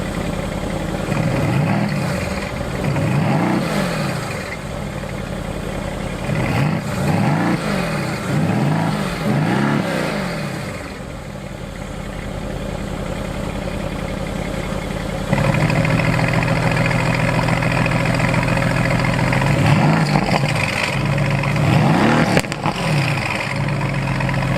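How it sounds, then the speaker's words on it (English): A V8 bi-turbo car engine idles with a steady rumble, then revs repeatedly in several rising and falling bursts, loud and close. A deeper, heavier idle settles in partway through, with no talking. "hopefully we can hear that V8 bi-turbo sing / sound like thunder"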